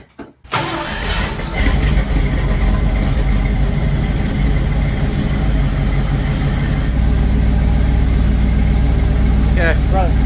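A 1978 Ford F100 pickup engine cranks briefly and then catches, settling into a loud, steady idle that continues close to the microphone for the rest of the clip.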